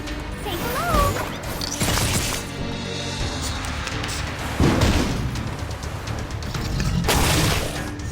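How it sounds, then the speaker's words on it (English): Loud crashing bursts and booms in the video game Reverse: 1999, over a dense, noisy game soundscape, with several heavy impacts spaced a few seconds apart. "I hear some explosion!"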